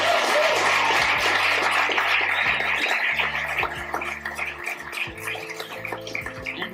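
An audience at an actors' studio session applauds a writer with dense, sustained clapping over low steady tones, thinning slightly toward the end.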